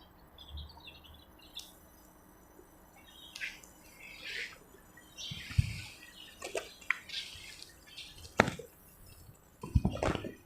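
Birds squawk and chirp in scattered bursts over a quiet rural background, some calls close and sharp, others fainter, irregular across the span with no talk.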